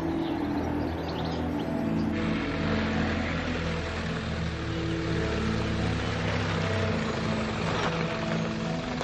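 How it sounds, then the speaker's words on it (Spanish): A distant off-road vehicle engine in rural Galicia rumbles steadily and low throughout, a continuous faraway drone under faint outdoor ambience, with no talk. "escucho el rumrum de un todoterreno en la lejanía"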